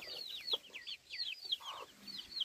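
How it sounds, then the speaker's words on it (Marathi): Tiny chicks cheep in high, rapid repeated peeps while hens give low clucks inside a coop, soft and close, with no voices. "चला मी तुम्हाला कोंबडीची पिल्लं दाखवते. खूप छोटी छोटी पिल्लं आहेत इकडे खुरवड्यामध्ये."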